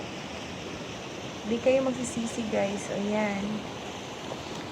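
Water rushing past a unique rock formation makes a constant broadband wash in the background, while a person talks briefly over it.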